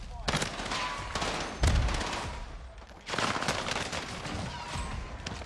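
GTA video game gunfire plays as dense, close bursts of rapid shots in clusters, with crackling echoes between volleys and a heavy low thump in the middle.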